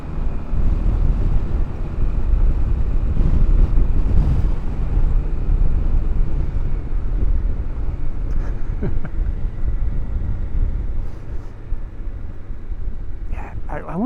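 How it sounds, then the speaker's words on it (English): Strong wind buffets the microphone outdoors on a New Year's Day scooter ride in Tokyo, a loud continuous low rumble filling the whole stretch, with brief faint sounds near the end. "Jesus, the wind."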